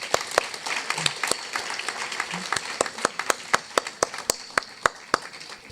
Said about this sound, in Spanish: para los que pido en principio un aplauso.